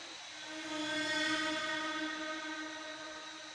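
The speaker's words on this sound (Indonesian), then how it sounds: "sorry banget kalau noise-nya air ya, karena gua nggak pakai mic" A spring or small water spout beside a river near a sacred tomb site at Candi Batur, heard as a steady, fairly close wash of flowing water with a hissing texture that swells slightly and then holds for a few seconds, with no talk.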